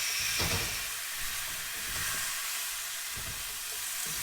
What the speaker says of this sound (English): We'll let those soften and char a little bit in the pan.